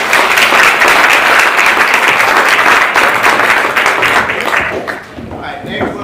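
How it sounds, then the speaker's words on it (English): An audience at a Calhoun County Schools recognition event claps loudly and steadily for several seconds, then the applause thins and fades away. "Let's give them a hand."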